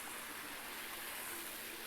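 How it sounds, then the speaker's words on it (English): Storm water still running down a hillside walkway at the base of a hill after a storm: a steady, faint rushing and hissing flow with no breaks. "The water's still coming."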